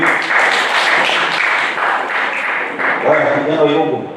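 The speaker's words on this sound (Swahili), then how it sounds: "Tumpigie makofi mazuri." Church congregation at a Sunday service applauding together, a dense, loud wash of clapping filling the room with voices mixed in.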